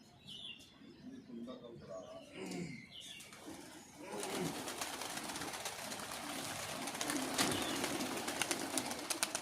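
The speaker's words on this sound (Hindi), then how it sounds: "और ये निकल गए हैं जी हमारे प्रतापगढ़ वालों के कबूतर" Pigeons from Pratapgarh take off from a rooftop in a pigeon-flying match, a burst of wingbeats and scattered coos over open outdoor ambience that grows louder and busier after a few seconds, with voices faintly around.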